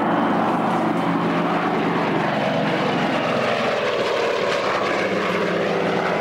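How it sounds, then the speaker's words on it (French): Continuous droning roar of a propeller airplane engine, loud and steady throughout with no pauses. "premièrement, c'est un avion à hélice."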